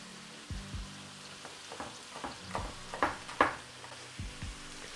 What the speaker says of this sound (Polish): Mięso pięknie zaczyna się rumienić, zobaczcie.